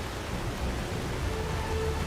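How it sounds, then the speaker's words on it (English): Steady rain falls in the video game Skyrim as a broad, even hiss that stays constant throughout, with no speech over it. "And here comes the rain again."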